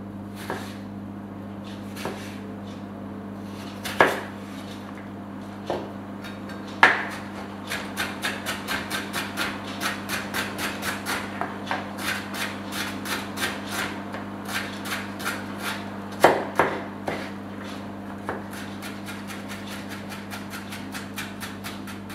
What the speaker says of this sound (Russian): И соломочкой нарезаю огурец.